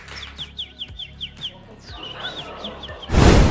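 A woman imitates birdsong with her voice, giving a quick rhythmic series of high chirps and then a sliding whistled warble, followed by a loud burst of audience noise at the end.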